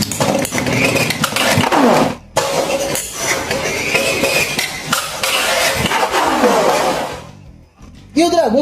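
Beyblade X tops, Clock Mirage 9-65B against a Dragon, ripped from a launcher into a plastic stadium, giving whirring spins, sharp metallic clinks and scraping collisions, loud and close, with someone talking excitedly over the battle.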